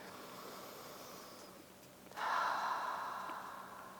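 Deep breathing during a rib-pain breathing exercise: a quiet, close stretch of soft air, then a fuller, louder breath that swells and slowly fades, heard alone without talk.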